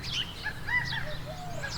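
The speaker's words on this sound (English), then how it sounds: "Lots of chirping birds, of course, and quail as well." Birds chirp and whistle outdoors on a spring trout trip, a scatter of thin, rising and falling calls over a steady low background hum, fairly faint and without talk.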